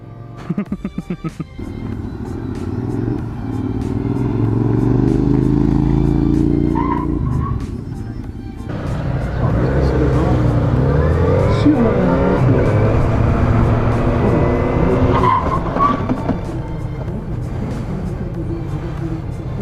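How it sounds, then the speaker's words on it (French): A car engine roars and strains under hard braking, with tires and pulsing mechanical noise as the ABS engages, while someone talks over it. "j'ai entendu l'ABS qui se déclenche"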